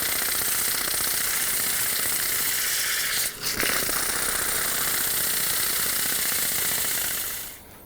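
Scrap wood spinning on a lathe is sanded, a loud, steady, close broadband whir with a brief break partway through before it fades out at the end; no talking.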